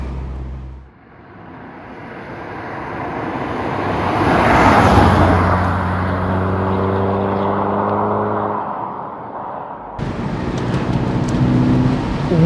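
Volkswagen Golf R Cabrio, front-wheel-drive convertible, driving on the road: steady engine and road noise rising as it accelerates, with tonal engine harmonics climbing through the gears, then a brief louder shift in the wind noise.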